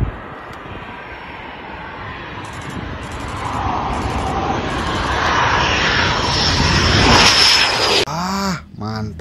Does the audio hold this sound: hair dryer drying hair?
no